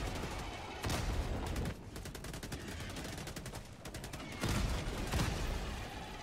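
Autocannon fire in the Helldivers 2 video game, heavy rapid bursts in two loud volleys with a slightly quieter stretch of continuous shooting between them, no voices over it.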